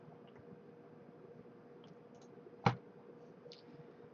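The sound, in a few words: computer mouse clicking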